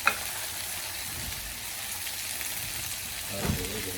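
Pork belly slices sizzle and crackle steadily on a hot grill pan, a continuous close frying hiss with a few soft clacks of handling and no speech.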